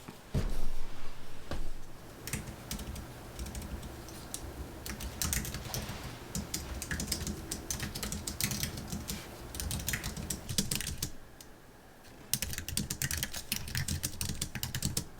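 Steady keyboard typing during a writing session, rapid clustered keystrokes running continuously with a brief pause near the end, close and fairly loud with no talking.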